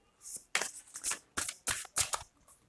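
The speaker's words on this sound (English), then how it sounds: "I'm gonna shuffle the minor arcana" Tarot cards are shuffled in several quick, crisp riffling bursts separated by short pauses, close and fairly quiet.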